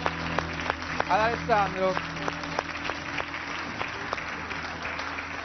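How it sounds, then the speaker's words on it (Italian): Audience applause for a guest at an Italian political talk show, a steady moderate patter of clapping running under someone speaking over it throughout. "un applauso"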